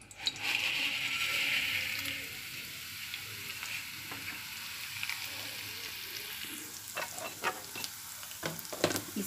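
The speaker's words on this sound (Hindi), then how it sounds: "इसे ना घी में अच्छी तरीके से रोस्ट कीजिए" Vermicelli roasting in ghee in a pan crackles with a bright sizzle, loudest at first, then softer, with scraping stirs and clinks of a spoon toward the end.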